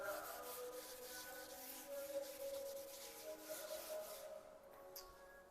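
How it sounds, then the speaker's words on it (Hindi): A board is being rubbed clean in an optics classroom, giving a steady hissing, scrubbing friction sound that runs unbroken and moderately close, with no voices present. "मैं इसको रब कर रहा हूँ यहाँ पे"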